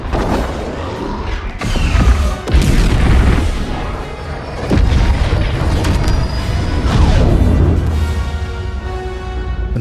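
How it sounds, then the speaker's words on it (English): Detonators blowing up aboard a ship in Star Wars Battlefront 2 (2017), a sustained run of loud, deep booms and crashing blasts with mechanical rumble, several heavy hits close together over continuous roar. "With the explosion of the detonators, we've successfully dragged the ship out of hyperspace."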